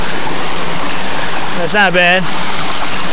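A waterfall at Keuka Lake pours in a continuous loud hiss and rush, with a brief spoken remark partway through.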